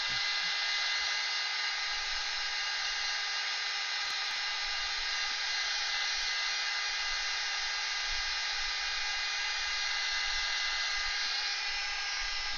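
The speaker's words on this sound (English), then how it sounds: "You don't need to get the bump from the hair dryer or air dryer." A hair dryer blows steadily and loudly throughout, a constant whooshing hum with no pauses and no talking.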